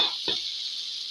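Garlic and chicken meatballs sizzle in oil in a hot wok, a loud steady hiss that flares briefly as food is added, with no talk.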